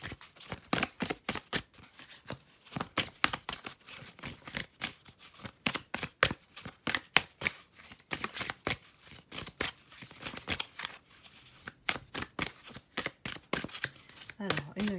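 Tarot cards shuffled by hand in quick, steady riffles and flicks, close and crisp for a long stretch, with a voice speaking over them at times.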